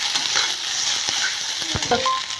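Egg fried rice being stirred and tossed in a hot pan, with a continuous sizzle and scattered scraping clinks of the spatula against the metal, close and fairly loud.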